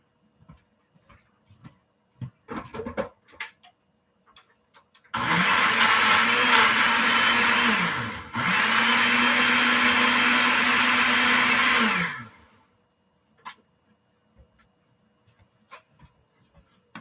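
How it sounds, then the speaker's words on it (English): A Ninja blender whirs as it blends peaches into a dessert, a loud steady motor roar lasting several seconds with a short dip midway, surrounded by quiet kitchen clatter. "So going to make a big noise. Nigel the Ninja is going to turn this into dessert."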